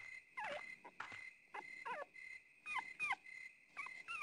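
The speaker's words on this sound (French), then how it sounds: "elle entendit l'aboiement d'un chien" Repeated short, high-pitched yips and whimpering cries from a dog in Rule of Rose come in an irregular run of about eight calls, fairly quiet and distant, with no one speaking.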